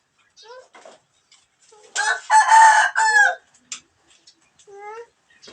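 A rooster crows loudly once, a long harmonic call near the listener, with softer clucking and faint voices before and after.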